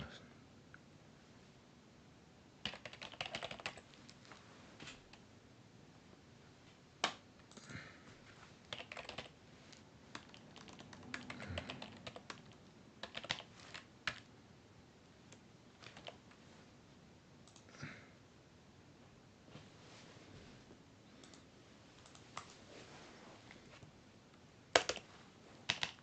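Bursts of typing on a computer keyboard, rapid clusters of key taps separated by pauses across the whole stretch, fairly quiet and close with no talk.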